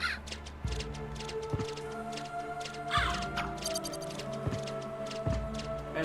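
Crows cawing in the Castlevania video game, harsh repeated caws over steady game music with periodic low thuds, moderately loud and continuous throughout.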